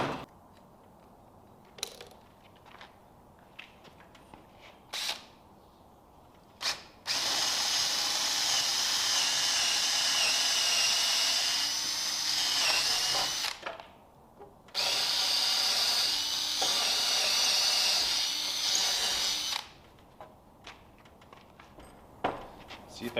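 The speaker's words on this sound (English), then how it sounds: "1/4 inch leg screws, so I'll drill a 1/4 inch hole." A power drill bores a 1/4 inch hole in a wooden board for leg screws while building barn doors, running in two long, loud, steady bursts separated by a short pause, with quieter workshop handling sounds before and after.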